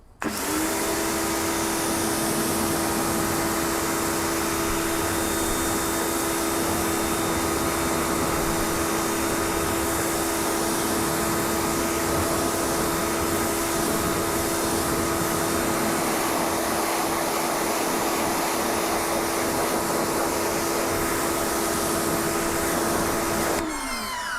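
Water rinsing a car wheel after a non-acid wheel cleaner test: a loud, steady spray hiss with a faint motor hum holds unbroken for the whole stretch, with no talking.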